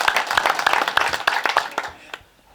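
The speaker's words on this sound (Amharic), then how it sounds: "አጨብጭቡላቸው።" An audience applauding at a church gathering for a child's second birthday, a burst of close, rapid clapping that thins out and fades to near quiet.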